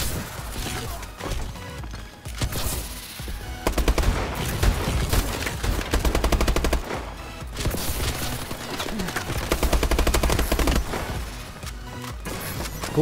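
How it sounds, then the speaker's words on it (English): Dense gunfire in Call of Duty: Advanced Warfare multiplayer, with overlapping bursts of automatic weapons and single shots crackling near and far throughout, over a busy game soundtrack, loud and nearly continuous. "Who is shooting me and where are they shooting me from?"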